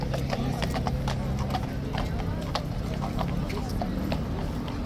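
Several horses' hooves clip-clop steadily on hard ground at a police stables yard, with overlapping close strikes and a brief whinny.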